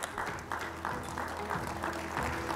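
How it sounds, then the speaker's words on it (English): An audience applauds panel members at an ecology and economy panel on protecting a wildlife corridor, a steady sustained clapping of many hands in a room. "please give them a round of applause"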